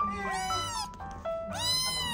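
A cat at an animal community center in Regina, Canada, gives two or three clear, close meows with rising and falling pitch. There is no talk over them.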